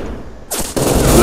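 Gunfire in the video game The Fall: Last Days of Gaia, a loud burst of rapid shots that kicks in abruptly and keeps going.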